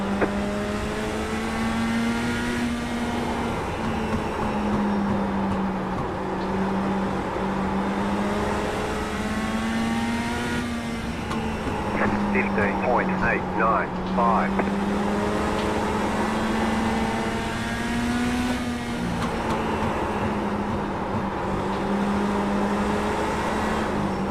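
Race car engine in the iRacing simulator holds a steady, loud drone throughout, rising and falling slightly with throttle, with another car's engine briefly audible alongside midway.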